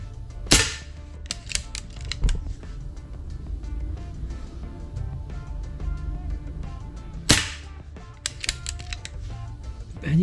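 A PR900W air rifle firing Aurok Olympic Match 4.5 mm pellets, two sharp, loud shots several seconds apart, each followed by clicks and metallic handling of the mechanism, with no talking.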